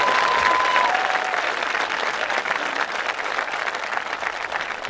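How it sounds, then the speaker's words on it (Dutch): An audience applauding at a taptoe military tattoo concert in Tiel, a dense, loud wash of clapping that holds steady and then gradually eases, with a brief whistle tone near the start. "Geef een groot applaus."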